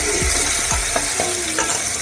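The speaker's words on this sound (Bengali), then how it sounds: "একটি কড়াইয়ে আমি তেল নিয়ে নিলাম, সাথে দিয়ে দিলাম তেজপাতা, রসুন এবং কিছু পাঁচফোড়ন দিয়ে আমার জলপাই ম্যাশ করাগুলি এখানে দিয়ে দিলাম।" Mashed olives fry in oil with bay leaf, garlic and Bengali five-spice in a kadai, with a steady sizzle under repeated utensil scrapes and knocks.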